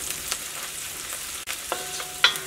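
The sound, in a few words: turmeric powder frying with onions in oil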